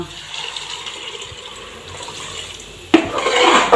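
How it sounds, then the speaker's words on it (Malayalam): Water poured into a cooking pot of roasted rice for ghee rice: a quiet kitchen background, then a sudden loud gushing splash that continues for the last second or so. "ഇനി വെള്ളം ഒഴിച്ചു കൊടുക്കട്ടെ കേട്ടോ"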